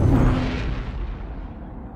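A loud deep boom as a ship passes at speed in the space game Star Citizen, hitting hard at the start and then trailing off into a long rumbling roar.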